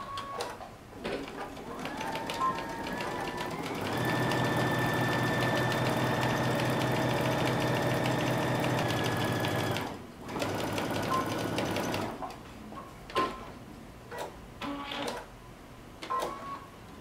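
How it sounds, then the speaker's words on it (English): A sewing machine runs a long continuous seam on a lace sweater-knit dress, with short starts before a steady, loud whirring stretch of about eight seconds, then brief stops and a few soft bursts near the end. "we're going to sew in one continuous seam using 5/8 of an inch seam allowance"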